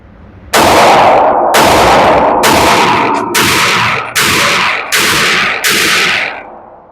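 A Sig Sauer P320 xFive ported pistol fires seven loud, sharp shots with ringing decay, spaced roughly evenly under a second apart, close and dominant with no talking.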